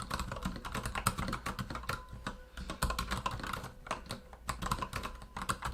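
Fast, steady typing on a Corsair K60 RGB Pro SE mechanical keyboard with Cherry Viola switches, close and crisp, keystrokes clattering in a dense continuous rhythm with no talking.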